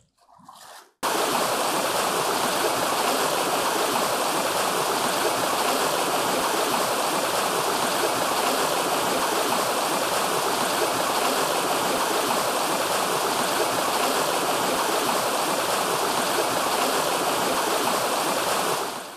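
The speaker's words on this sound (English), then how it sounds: "culverts are the means by which they can let that water travel downwards." Water rushing steadily through a culvert on the Stratford-upon-Avon Canal: after a second of quiet, a loud, constant broadband roar of flowing water fills the rest, close and unbroken.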